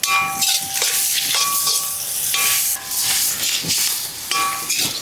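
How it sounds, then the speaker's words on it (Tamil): Chopped onions with salt and green chilies sauté in a pan over a village-style cooking fire, giving a continuous hissing sizzle broken by repeated bursts of stirring and scraping. "பச்சை மிளகா கூட போட்டுக்கலாம். கொஞ்சம் வதங்கட்டும்."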